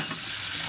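Bisugo fish frying in a hot pan, a steady loud sizzle and crackle of oil heard up close with no voices.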